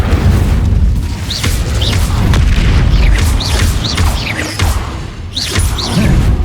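A fiery Incendio spell blast in Hogwarts Legacy erupts amid dense, loud combat: booming bursts and whooshing flares overlap continuously, with several rising magical swishes cutting through the roar, and no voices.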